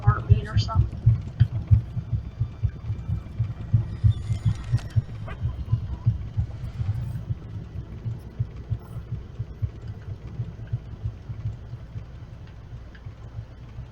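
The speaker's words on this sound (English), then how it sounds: "I keep thinking that sound of the windmill moving is the sound of her heartbeat or something." A windmill turning in the video game Fable 2 gives a low, steady, rhythmic throbbing that pulses like a heartbeat and carries on throughout at a moderate level.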